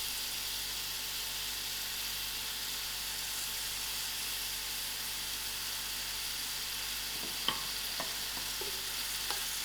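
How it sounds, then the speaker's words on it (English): Onions frying in oil in a pan, a steady, fairly quiet hiss of sizzling throughout, with a few light utensil taps and scrapes toward the end. "I'll allow these onions to fry."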